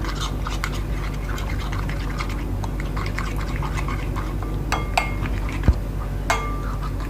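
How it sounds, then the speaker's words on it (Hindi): A spoon clinks and scrapes around a bowl while tandoori marinade with black pepper powder and food colouring is mixed, with small, close, irregular taps over a steady kitchen hum and a few sharper knocks near the end. "अब हम इसको अच्छी तरह से मिक्स कर लेंगे।"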